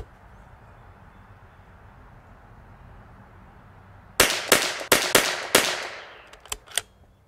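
A Bergara B14R Heavy rifle fires at a shooting range. After several seconds of quiet outdoor hiss, a rapid series of sharp, loud cracks rings out with echoing tails, followed by a couple of fainter reports.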